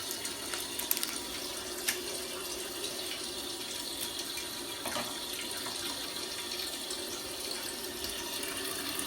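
A 1.28-gallon toilet tank fills with water, giving a steady, faint hiss and trickle with a few small clicks, close by and alone.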